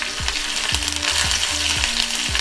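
Curry leaves crackle in hot oil as a tempering for ripe red chilli and raw tamarind chutney, a dense close hiss with a run of rhythmic popping spits about every half second.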